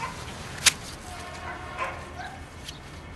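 A dog barks faintly at a distance, with a sharp yip and a softer bark or two over a quiet room-tone background.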